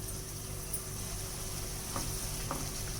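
Tomato rice mixture fries in oil in a pan with a continuous close sizzle. A couple of soft stirring scrapes sound near the end, and no voices are heard.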